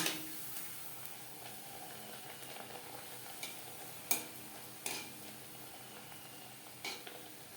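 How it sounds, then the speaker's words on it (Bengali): Nan puri frying in hot refined oil in a pan, a faint steady sizzle with occasional soft clicks of a utensil against the rim. "নানপুরি ভাজবো"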